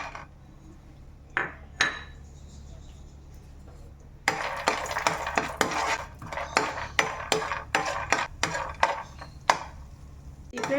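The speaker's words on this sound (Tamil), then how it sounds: "இந்த ட்ரை ஃப்ரூட்ஸ் வந்து கொஞ்சம் லைட்டாக ஃப்ரை பண்ணி எடுத்துக்கலாம்." Dry fruits lightly fried and stirred in a pan for makhana laddu: quiet sizzling at first, then a run of sharp metallic scrapes and clinks from a spoon against the pan, fairly close and irregular.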